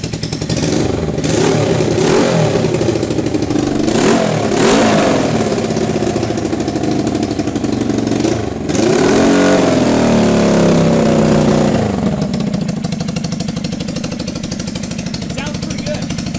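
A Suzuki GS450 motorcycle engine with large exhaust leaks fires up and revs repeatedly, loud and close, its pitch rising and falling with each throttle blip before settling into a rough, steady idle.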